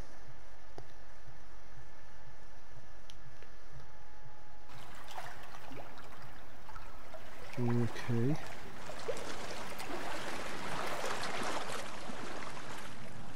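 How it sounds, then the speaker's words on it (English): Flowing stream water in The Forest video game, a steady rushing wash that swells louder in the second half, with brief speech from a player over it. "The water's too noisy."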